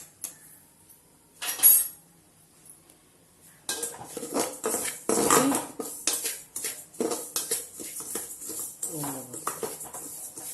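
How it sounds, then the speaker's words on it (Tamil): Semolina is dry-roasted in a pan for apple kesari: after a quiet start and one brief clatter, a spoon scrapes and clinks against the metal pan in quick irregular strokes, close by, with a voice speaking over it. "கொட்டிட்டு நல்லா வறுத்துக்கிறோம்"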